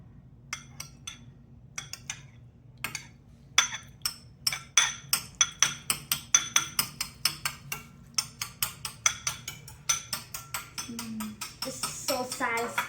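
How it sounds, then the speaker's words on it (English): A knife chopping jello into very small pieces for hwachae, giving a long run of quick, crisp taps on a cutting board that speed into a steady rhythm, close and clear under a faint hum. "I'm going to cut up the jello into really tiny slices like these."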